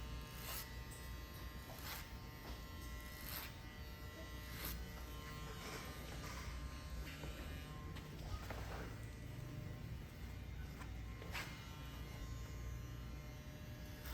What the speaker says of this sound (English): So I use clipper over comb as a debulking technique.